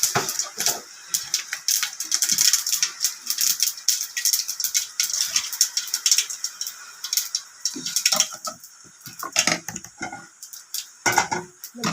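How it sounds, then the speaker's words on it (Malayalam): Mustard seeds spluttering in hot coconut oil for a Kerala pachadi, a dense run of sharp crackles and pops that thins out toward the end, with no talk over it. "നമുക്ക് കുറച്ച് വെളിച്ചെണ്ണ ഒഴിച്ച് കൊടുക്കാം. കുറച്ച് കടുക്,"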